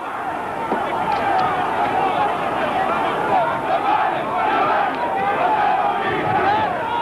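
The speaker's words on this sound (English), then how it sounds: "Singing their victory chant" A large crowd of striking miners' pickets chanting a victory chant during the 1984 strike, a dense, continuous roar of many voices shouting together at close range, sustained and loud throughout.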